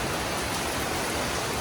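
Heavy, monsoon-like downpour just after a hailstorm, a constant dense roar of rain hitting surfaces with no gaps, loud and unbroken.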